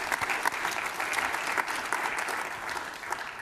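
Steady applause from a conference audience at the DENOG14 newcomer session, a dense wash of clapping that holds at an even level throughout with no voices standing out.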